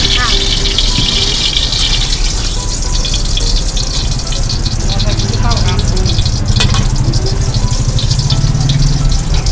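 Pork fried rice stir-fried at a Thai street-food stall, cooked as two boxes at once, sizzles steadily and loudly in the pan with scraping stirs, while voices talk nearby throughout.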